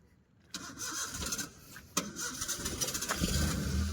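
A car stalled during a driving lesson is cranked and restarted, a starter whir building into a low engine idle that grows steadier and louder toward the end, heard close inside the vehicle.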